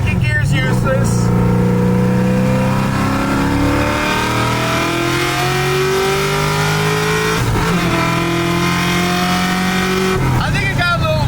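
A Ford Mustang engine with an open carburetor roars loudly as it accelerates through the gears, the pitch climbing steadily between two brief drops at the shifts, with a voice talking under it.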